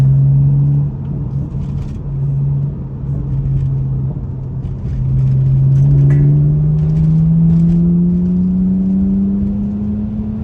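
A BMW 125i accelerating along a road at night, heard from inside the cabin as a loud steady engine drone whose pitch climbs smoothly as it speeds up, over constant road rumble.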